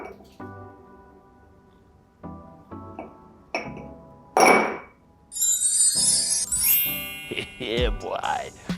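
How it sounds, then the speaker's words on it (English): Ice cubes clink and rattle into a rocks glass while a home bartender mixes an Island Clover cocktail, a few sharp glassy knocks and a brighter tumbling rattle, with someone talking around them. "Let's bless our rocks glass up with some ice."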